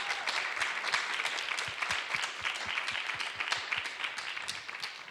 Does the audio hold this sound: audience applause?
yes